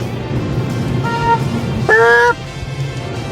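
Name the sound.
car horn honking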